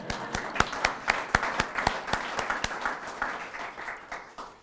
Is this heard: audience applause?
yes